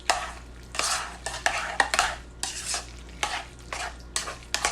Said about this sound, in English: So you want to stir this up and get all this incorporated.